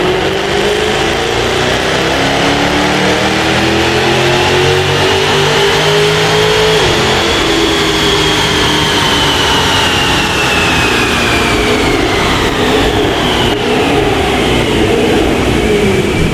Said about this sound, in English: It's time to get it strapped back down to the dyno to find out how much power we've added to this